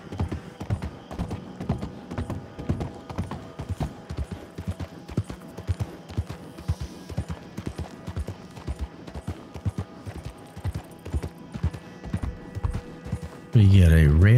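Hooves of a deep dark red horse clip-clopping on the streets of Saint Denis in the video game Red Dead Online, a steady, rhythmic trot of clear, close hoofbeats running throughout, ending in a louder low rumble.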